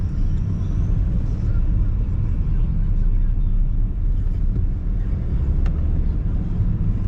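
Heavy traffic on a congested road, cars built up around a vehicle, a continuous low rumble of idling and creeping engines, steady and fairly close, with a brief higher tone near the end.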